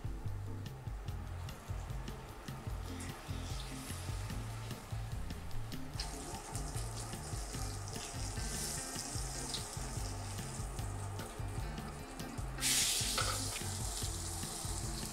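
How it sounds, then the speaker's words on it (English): Salmon sears in a very hot pan with olive oil, giving a steady, close sizzle and crackle throughout, with brief stirring and water sounds layered in. "you just wanna get a very hot pan going. And we're gonna add a little bit of olive oil to that. And then we're gonna take our salmon, push it down on there."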